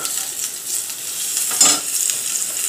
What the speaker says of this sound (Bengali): আর এইদিকে বেগুনটা ভাজা হচ্ছে